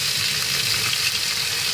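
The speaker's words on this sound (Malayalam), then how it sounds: "സവാള ചേർത്ത് വഴറ്റി" Onions sautéing in hot oil in a pan after mustard seeds have popped, for a dried prawn and snake gourd stir-fry, a loud, steady, close sizzle with no voices.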